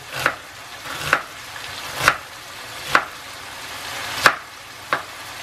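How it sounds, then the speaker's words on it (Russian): Six sharp knife chops through onion on a cutting board, spaced about a second apart, crisp and close, with faint sizzling in the background. "Лук я буду резать довольно крупными квадратиками, кусочками."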